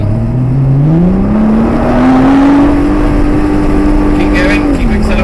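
A Nissan GT-R accelerates at full throttle on the Castle Combe race circuit, its engine note climbing steadily in pitch, holding high and loud, then dropping slightly near the end, heard from close by inside the car.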